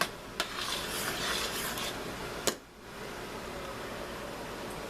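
Dill pickle relish is stirred in a pot as it boils, with a quiet bubbling hiss, soft scraping against the pot and a couple of brief clinks from the spoon.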